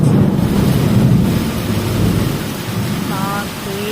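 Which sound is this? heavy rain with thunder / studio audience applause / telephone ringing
heavy rain with thunder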